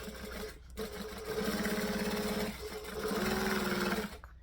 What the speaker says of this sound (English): I'm going to start where the edge of this is, and we're going to stitch, and we're going to back stitch.